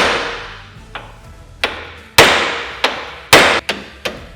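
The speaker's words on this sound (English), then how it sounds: "I like to take one hammer, lay it right here, and then take another one and smack it" A hammer held against a Polaris RZR XP 1000 steering knuckle is struck with a second hammer to free the tie rod end, giving about eight sharp metallic clangs at irregular intervals, several loud and close, with no talking.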